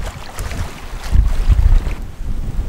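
Strong gusts sweep across an empty pebble beach campsite on Udo island in Tongyeong, Korea, buffeting the microphone in loud, rumbling bursts with no voices heard.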